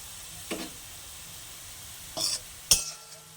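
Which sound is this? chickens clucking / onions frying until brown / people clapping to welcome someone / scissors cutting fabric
onions frying until brown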